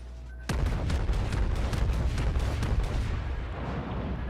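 The battleship Fuso firing its main guns in a naval video game, a heavy boom followed by a rapid rolling series of deep pounding salvos that fades into rumble, no talk.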